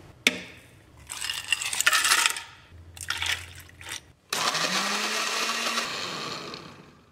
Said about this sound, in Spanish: Vamos a licuar todos los ingredientes.